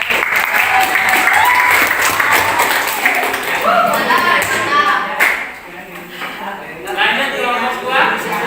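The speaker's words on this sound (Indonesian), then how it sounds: "Tepuk tangan untuk kelompok" Classroom applause for a student group after their presentation, a burst of clapping that fades over several seconds with talk and voices mixed in.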